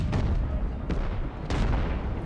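Distant artillery booms and musket volleys in the Civil War strategy game Ultimate General: Gettysburg, with three or four dull thuds rising from a heavy low rumble of battle.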